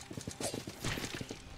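Rapid, evenly spaced hoofbeats from a horse in the Salt & Sanctuary video game, a quick galloping clatter that carries through the whole short moment at moderate volume.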